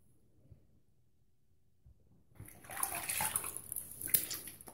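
Water splashed onto a face to rinse off after a straight razor shave with a Gold Dollar 66, a quiet pause giving way to several seconds of close, busy splashing and running water.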